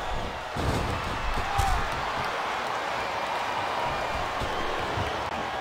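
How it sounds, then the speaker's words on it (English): A wrestling crowd in the WWE Smackdown vs Raw 2007 video game gives off a constant wash of arena murmur and cheering. One brief louder swell comes near the start. "Sounds like this crowd's got something on their minds, King."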